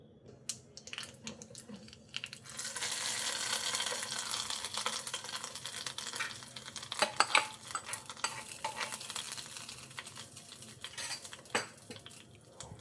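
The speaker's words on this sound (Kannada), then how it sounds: "ಸೊ ಈಗ ಇದಕ್ಕೆ ಒಂದು ಒಗ್ಗರಣೆ ಕೊಡೋಣ ಬನ್ನಿ" Steady crackling sizzle of tempering spices in hot oil for red chutney, with a few sharp pops and clinks of a utensil against the pan.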